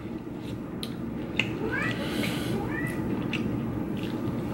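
A cat meows a few times, short upward-gliding calls over a steady noisy background, with faint voices and bustle around it.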